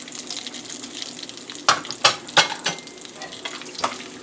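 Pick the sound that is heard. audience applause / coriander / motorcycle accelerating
coriander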